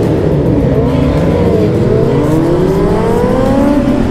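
Loud, close motorbike engines roar continuously, revving with rising pitch as the riders burn rubber, a dense unbroken wall of engine noise with no talk over it.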